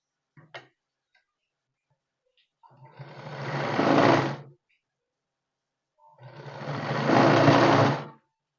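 Sewing machine stitching a kids' western top made from leftover fabric, running in two sustained bursts of about two seconds each separated by a pause, close and fairly loud with a faint tick at the start.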